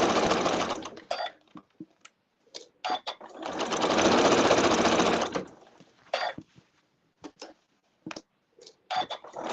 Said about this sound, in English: I'm just going to sew the row.